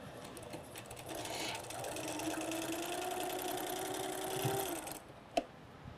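Sewing machine joining two halves of a Mariner's Compass quilted pillow, a close, steady whirring stitch run lasting about five seconds, ending with a sharp click as it stops.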